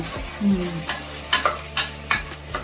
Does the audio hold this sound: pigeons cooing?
no